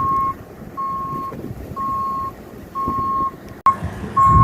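A gravel truck's reversing alarm beeps in a steady repeating pattern, five evenly spaced tones over a low diesel rumble, with a sharp clunk before the engine swells and beeping continues.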